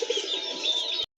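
Domestic deshi pigeons coo in a short, soft rolling burst, close by and alone, ending abruptly.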